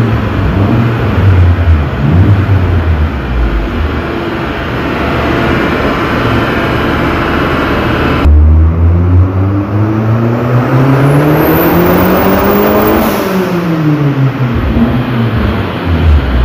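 A GM Corsa with a turbocharged 2.0 engine revving on a dynamometer, a loud sustained roar whose pitch climbs steadily through the gears, then a sharp cut and a second strong run rising to a peak before easing off.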